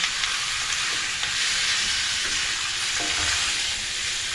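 Pork skin fries in its own rendered fat for chicharon, a loud, dense, continuous sizzle and crackle heard close up, with scattered pops rising from the oil.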